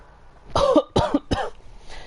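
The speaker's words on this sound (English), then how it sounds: "I've got a little bit of a cough" Three short, close coughs in quick succession, the last one weaker.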